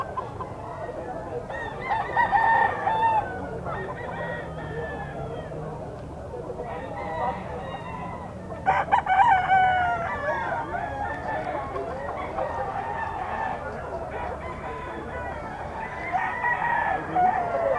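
Gamecock stags crowing at a pet market, several loud crows rising out of a busy background of clucking fowl, while people talk nearby.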